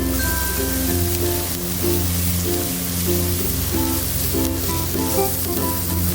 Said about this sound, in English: Next, add the thumb-sized chopped ginger.